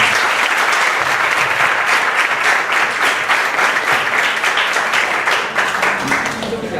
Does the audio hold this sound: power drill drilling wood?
no